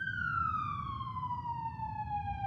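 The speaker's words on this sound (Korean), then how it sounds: "경찰차 아니야?" A single police siren wail in a video game sweeps slowly downward in pitch, loud and clear over a low rumbling background, with no talking.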